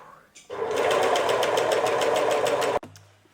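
An overlock serger stitches fabric in a fast, loud, close mechanical whir that starts abruptly, runs steadily for about two seconds and stops sharply, with a brief low hum afterward, while sewing a summer mini short.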